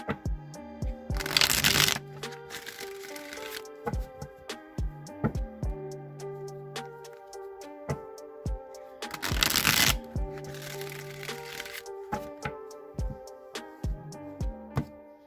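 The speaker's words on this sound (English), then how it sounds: "I'm going to shuffle the Rider-Waite deck" A Rider-Waite tarot deck is shuffled twice in loud riffling bursts, separated by softer taps, slides and card handling.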